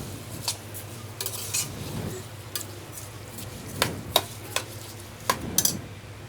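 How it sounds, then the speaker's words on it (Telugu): Rice frying in a pot while being stirred, with a metal spoon scraping and clinking against the pot in irregular taps over a faint, soft sizzle, close and quiet, with no talk. "3 గ్లాసెస్ రైస్తో పాటు కొంచెం ఫ్రై చేసుకుందాం."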